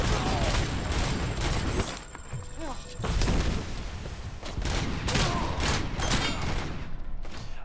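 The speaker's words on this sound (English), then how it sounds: "Machine gun, I forgot about that." Machine gun fire in the RoboCop Rogue City video game, dense sustained bursts of rapid shots with booming impacts and clattering debris, loud and continuous with a short lull midway.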